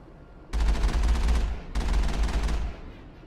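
Gunfire from the Mako vehicle in a Mass Effect 1 battle, in two loud, rapid bursts of about a second each, close and dense, separated by a short gap.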